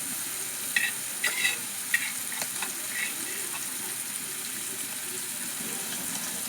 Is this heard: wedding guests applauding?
no